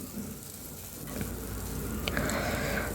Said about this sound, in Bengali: সেজন্য মরিচগুলো ভেজে নিচ্ছি আর এদিকটা হচ্ছে মরিচগুলো ভেজে পেঁয়াজগুলোকে ভেজে নিচ্ছি